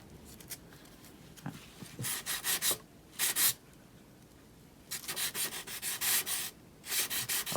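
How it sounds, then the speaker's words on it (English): Sandpaper scrubbing a Dollar Tree spring decor piece, heard in repeated bursts of short back-and-forth strokes with brief pauses between them, close and fairly loud. "I need a finer grit to sand that with"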